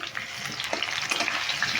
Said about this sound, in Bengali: আলুটাও আর একবার নেড়ে দিচ্ছি আমি